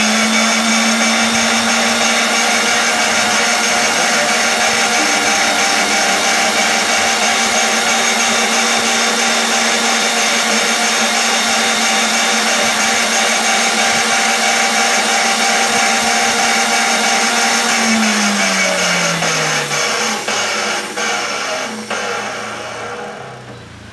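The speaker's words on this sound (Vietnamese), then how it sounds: "này là băng tải máy chạy đây nè" A conveyor belt machine runs with a loud, steady motorized hum and mechanical rattle that continues for a long stretch, then winds down in pitch and fades near the end as it slows; no one speaks.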